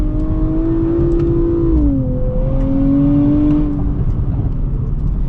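A 2024 Nissan Z NISMO accelerates in fourth gear from low revs, its engine a loud, steady droning roar that climbs in pitch, dips briefly, then climbs again, heard from inside the car without talk.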